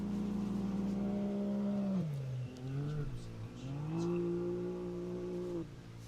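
An Ultra4 off-road race car runs the course in the desert class finals, its engine droning steadily before dipping and rising again through gear changes, heard at a moderate distance.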